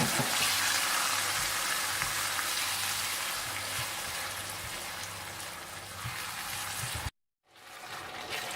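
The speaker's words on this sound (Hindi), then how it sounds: "जैसे ही लहसुन थोड़ा सा भुन जाए तो आप इसमें टमाटर डाल दें और इसे आप थोड़ा सा भून लें" Tomatoes frying with garlic in a pan, a continuous loud sizzle with occasional stirring that cuts off abruptly near the end before a quieter sizzle resumes.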